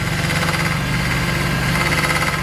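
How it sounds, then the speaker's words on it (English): A BMW E46 330ci with the M54B30 engine running, a loud steady engine hum and vibration with a tonal whine from the failing power steering pump, close-up and continuous for a few seconds. "even when the power steering fluid is topped up to the max, the power steering pump still whines"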